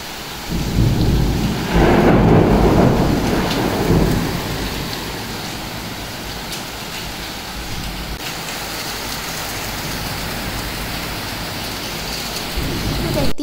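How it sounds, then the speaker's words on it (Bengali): A thunderstorm with hail pounding outside a balcony: a loud rolling thunder rumble peaks early, then eases into a steady, dense roar of heavy rain on surfaces. "এখানে শিলাবৃষ্টি হচ্ছিল অ্যান্ড আমি অনেক ট্রাই করলাম এক একটা শিল অ্যাটলিস্ট কালেক্ট করা"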